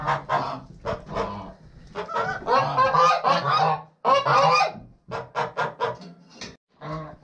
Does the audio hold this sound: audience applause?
no